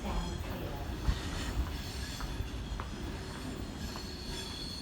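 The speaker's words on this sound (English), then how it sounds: "The next train does not stop at this platform." A Sydney train runs through Erskineville station without stopping, its wheels giving off a steady high squeal over a continuous rumble at moderate distance, with faint voices in the background.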